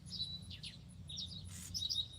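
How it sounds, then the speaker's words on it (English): Short, high chirps and tweets from a bird outdoors, several quick calls scattered across a couple of seconds, fairly faint against a low background hum. "Can y'all hear that bird?"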